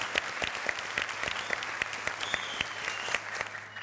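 A studio audience applauding a Turkish theatre actress, dense continuous clapping close up with sharp individual claps standing out, fading slightly at the end.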